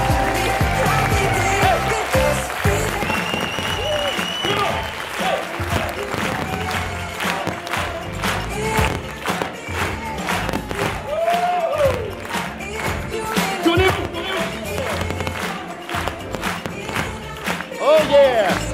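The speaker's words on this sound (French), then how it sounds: "Mettez un maximum de bruit et d'énergie pour applaudir" An audience applauds and cheers at a live event as a speaker is welcomed on stage, lively clapping mixed with shouts and music, with an amplified voice talking over it.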